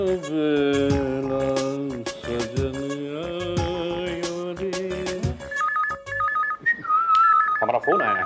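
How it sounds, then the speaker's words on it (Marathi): A telephone rings in a domestic scene from a Marathi TV serial: a loud melodic ringtone repeats for several seconds, then gives way to short electronic beeping tones. "हमारा फोन आया है"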